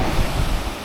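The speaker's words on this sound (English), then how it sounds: "the water is very rough" Rough sea surf churns and roars near a black-sand fishing point by Milk River, heavy with wind buffeting the microphone, loud and close over a brief moment.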